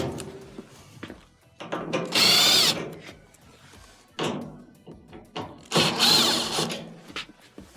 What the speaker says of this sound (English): We do have 4 Phillips screws that will have to be removed.